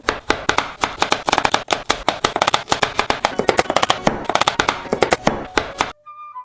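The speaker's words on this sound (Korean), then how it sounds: "당근을 채를 썰어 주도록 하겠습니다" Rapid, steady knife chopping of carrot into thin strips on a cutting board, many crisp taps in quick rhythm, close and loud, stopping abruptly at the end.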